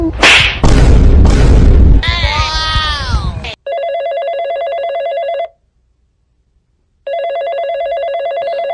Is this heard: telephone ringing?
yes